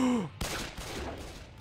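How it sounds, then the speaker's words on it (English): Ricocheting bullet gunfire in the video game Team Fortress 2, a sharp crack followed by a short cluster of scattered hits and pings that fade quickly after a brief voice at the start. "ricochet bullets"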